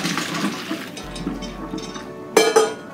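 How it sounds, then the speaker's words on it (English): Blanched broccoli poured from a pot into a colander at a kitchen sink, a close rush of draining water followed by a sharp metallic clunk of cookware near the end. "Take the broccoli over to the sink to drain it in the colander."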